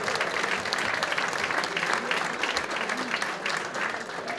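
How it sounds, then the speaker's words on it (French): An audience at the Festival des Picantins 2010 applauds volunteers in one continuous, loud burst of clapping that stays full and even from start to finish. "s'il vous plaît les applaudir tous ensemble"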